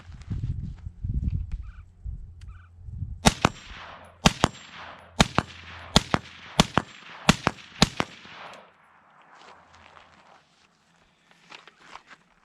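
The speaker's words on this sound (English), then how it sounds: "Okay, so now we're shooting this suppressed." Suppressed gunshots from a rifle with an 11.5-inch upper: about eight sharp, fairly loud cracks in an irregular rapid sequence, each followed by brief echo, with some handling noise before and after.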